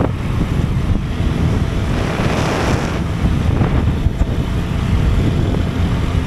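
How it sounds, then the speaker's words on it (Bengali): Heavy wind noise roars continuously during a motorbike ride on a cold road near Tangail, Bangladesh, with loud, steady buffeting against the microphone throughout. "আমরা অতিরিক্ত জোরে আজকে বাইক রাইড করতেছি না, কারণ প্রচুর বাতাস।"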